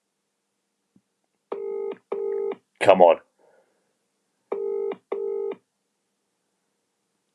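A UK telephone line rings out with the classic double-ring tone for a live prize-draw call, two paired bursts separated by a pause, with someone briefly speaking in between.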